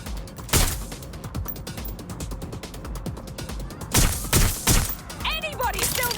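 Gunfire in the video game Watch Dogs Legion: rapid automatic shots rattle through the clip, heavier bursts come near the end, and clipped game voices and mechanical clatter sit among them.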